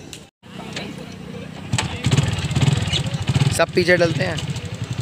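A motorcycle engine fires up after a brief silence and settles into a loud, rhythmic idle close by, with people talking over it.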